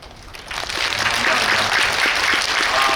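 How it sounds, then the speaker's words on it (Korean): Audience applause for the actors at a film Q&A screening, clapping swelling from quieter to full and dense after the first half second, then holding steady with the room filled. "이 배우들한테 더 박수 드립니다"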